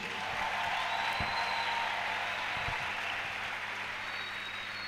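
Church congregation applauding and cheering for Jesus during a sermon, a dense continuous wash of clapping and crowd noise held steady throughout, with a few low thumps, no clear speech.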